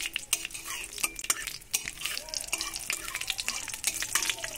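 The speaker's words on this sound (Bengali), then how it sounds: "দিয়ে দিচ্ছি গোটা গরম মশলা আর 5 ফোড়ন।" Whole garam masala and panch phoron crackle in hot mustard oil, with busy utensil clatter and scraping against the pot, moderately loud and close.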